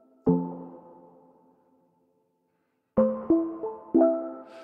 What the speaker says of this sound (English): it pitches it up by an octave. And then it hits a reverb